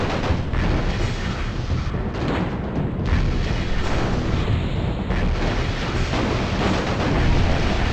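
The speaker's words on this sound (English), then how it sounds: "Taking enemy fire." Heavy weapons fire from enemy mechs in MechCommander Gold thunders in a loud, unbroken wash of booms and blasts, with explosive bursts layered densely together.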